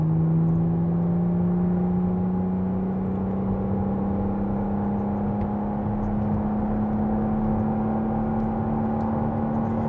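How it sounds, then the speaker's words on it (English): A McLaren Artura plug-in hybrid drives a mountain road in manual mode, its engine a steady, loud drone whose pitch climbs slowly under acceleration for the whole stretch, with no talking. "So this is a full plug-in hybrid vehicle from McLaren."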